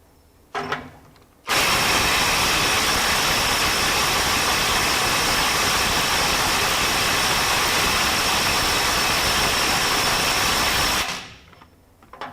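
A RIDGID mid torque impact wrench running on a 6 amp hour Octane battery, hammering loudly and continuously for about ten seconds, with no talking.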